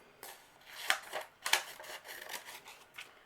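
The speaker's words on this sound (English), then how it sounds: "cut along this center crease, and I'm going to fold it from left to right and cut it apart" Scissors cutting folded paper for a six-pointed snowflake, a close series of crisp snips and crunchy slicing strokes, a few louder cuts among softer ones, with no voices.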